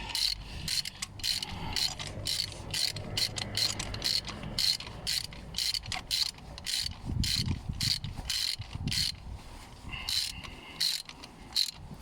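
A ratchet clicks in quick rapid bursts while a spark plug is tightened down on a Vauxhall Astra J engine, close up and fairly quiet, with brief pauses between runs of clicking.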